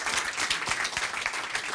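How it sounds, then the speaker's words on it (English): Audience applause at a masterclass presentation, a dense, steady burst of many hands clapping together, fairly close, with no voices standing out. "round of applause for Sauwetter."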